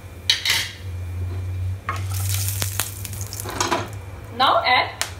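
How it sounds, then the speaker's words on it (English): Whole cardamom pods, cinnamon sticks and cloves crackle and sizzle in hot oil, a continuous close frying hiss with a low hum underneath and scraping stirs and spoon clinks against the pan. "Now in the same oil, put ilachi or cardamom and dalchini, that means cinnamon sticks, and lavang or long"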